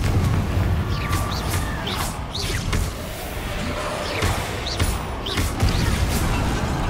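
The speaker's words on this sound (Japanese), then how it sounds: "爆発した。" An explosion in the video game Hogwarts Legacy: a burst of heavy booming rumble mixed with crashing, crackling hits and sharp impacts, sustained and dense throughout.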